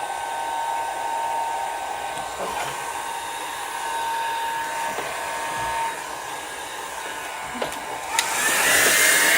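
Hair dryer running on low heat to dry alcohol ink, a steady airy whir held close, with a brief rise in pitch and loudness near the end.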